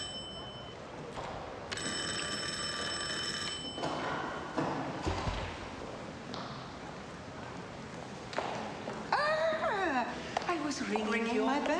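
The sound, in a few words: bell ringing at the door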